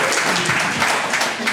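An audience claps in a short, dense burst of applause at a business event, close and fairly loud with a faint voice underneath.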